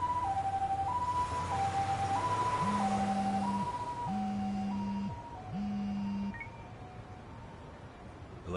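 Ambulance siren in the video game Lost Judgment, a two-tone hi-lo wail alternating about once a second, loud at first then fading, with a lower droning tone pulsing beneath it.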